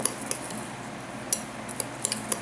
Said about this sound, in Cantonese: 咁輕微攪勻，咁只要 make sure 個底嗰度嗰啲花生都已經撥咗上嚟，同啲砂糖攪勻咗